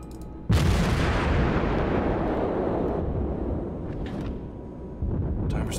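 Naval gun shells from a World of Warships battle land in a sudden loud, booming roar that rolls on for seconds, followed by a second heavy impact near the end.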